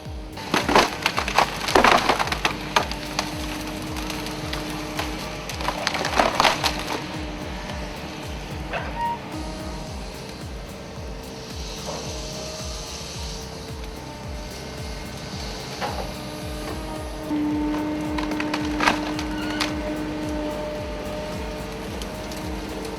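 A Woodcracker C550 tree shear cuts and splits timber with loud cracking and splintering wood, grinding crunches and machine rumble in bursts, then a steadier mechanical whine. It sounds close, with no talking.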